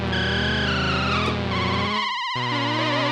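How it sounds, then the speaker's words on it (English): A sustained synthesizer tone with wavering, chorus-like pitch modulation, loud and buzzy, shifting to a new held chord partway through. "It's almost this like forever adjusting kind of chorusy pitch"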